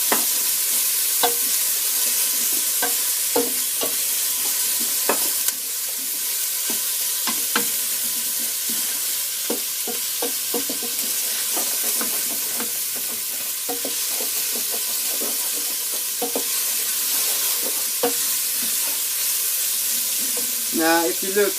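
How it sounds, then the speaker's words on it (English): Onions sautéing gently in a pan for a Thai green curry, a continuous soft sizzle broken by frequent scraping and clicking stirs of a utensil. "You don't want to brown these onions, you just want to just saute them until they're soft"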